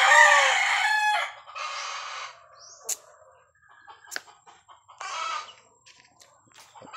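A fighting rooster crows loudly nearby in a backyard, then crows again, with softer clucks and chirps from other fowl in between.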